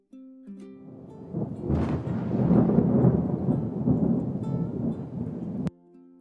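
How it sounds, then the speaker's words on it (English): A deep roll of thunder swells up and rumbles loudly for a few seconds over a soft musical tone, then cuts off abruptly. "thunder rumbled by and boomed out very loud"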